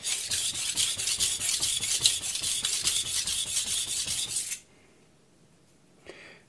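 Knife edge rasping in rapid back-and-forth strokes on a Morihei Karasu 9k whetstone, a steady run of close, bright scraping passes that stops abruptly, leaving quiet with one faint touch near the end.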